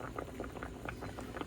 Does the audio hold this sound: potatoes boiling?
yes